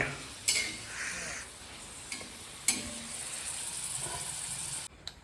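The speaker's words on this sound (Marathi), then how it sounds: "तर आपण आता भाजत आहोत नळ्या" Nalya, a papad substitute, roasts in a pan: soft scraping and stirring with a few sharp clinks of a utensil against the pan, close by.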